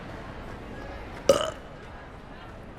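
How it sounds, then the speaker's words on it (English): Character burping as a polyjuice potion wears off in Hogwarts Legacy: one loud, short belch midway over quiet game ambience, then a fading tail. "He's just gonna burp the whole time until it wears off."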